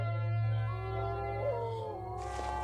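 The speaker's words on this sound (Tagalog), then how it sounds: "Bakit umaalulong ang mga aso?" Several dogs howl together outdoors at night, a sustained wavering chorus of long tonal wails with a few higher yips, loud and steady throughout before a hiss of noise rises near the end.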